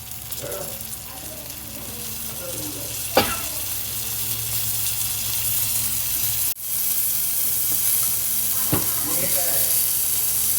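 Mandeli fish frying in oil in a pan, Malvani style, producing a loud, continuous close sizzle with a couple of sharp clatters of utensils and brief muffled stirring noises.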